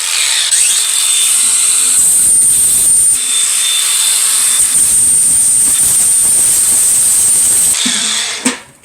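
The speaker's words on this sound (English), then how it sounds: "let's get our flap disc on here and get this cleaned up" An angle grinder fitted with a flap disc cleans up metal for a homemade stove build, giving a loud, continuous high-pitched whine with shifting grinding texture as it works the surface, then winding down at the end.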